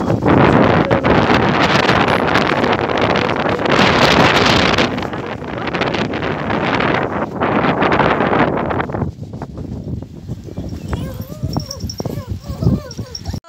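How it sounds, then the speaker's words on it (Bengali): Strong wind roars and buffets the microphone for most of the clip, then eases into gusty rumbles with a few scattered sharper sounds. "কত জোরে হাওয়া দিচ্ছে।"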